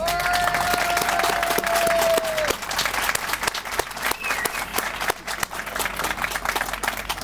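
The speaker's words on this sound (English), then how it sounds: "And just give them a round of applause." A crowd at the grand opening of a library, park and community center applauds, loud sustained clapping from many people with scattered sharp claps standing out, and a brief tone rings out early on.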